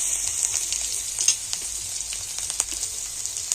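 Whole cumin seeds and garlic sizzle in hot oil in a pan, a close, steady crackling hiss with small pops scattered throughout and no talking.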